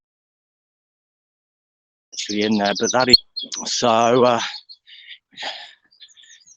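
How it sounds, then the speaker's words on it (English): Birds chirp and tweet in bushes beside the River Barrow, bright bursts of song coming close and loud in short phrases, with a person talking over parts of it. "You can probably hear all the birds and everything."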